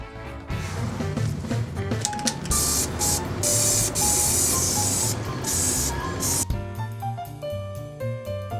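An aerosol can of spray paint hisses in sustained bursts while a prop is built from tape and glue, with a steady spray running for several seconds between short pauses over faint background music.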